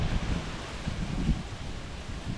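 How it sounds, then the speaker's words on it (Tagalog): Strong wind sweeps across open water near the shore, a steady rushing and buffeting roar with gusty swells and no voices. "Ang lakas ng hangin mga kabugoy, hindi makalaot."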